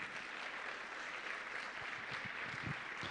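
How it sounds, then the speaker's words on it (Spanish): A church congregation applauds during a Sunday service, steady dense clapping sustained throughout, fairly loud and filling the space with no talk over it. "Una vez más vamos a dar fuertes aplausos,"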